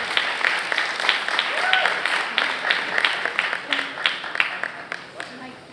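Audience applause at a Toastmasters meeting, a crowd clapping steadily with distinct individual claps, fairly close, with some voices mixed in.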